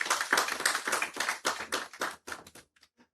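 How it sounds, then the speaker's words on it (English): A small audience at a construction and real estate outlook event claps in loud, uneven bursts that thin out and fade to a few scattered claps at the end. "they deserve a round of applause"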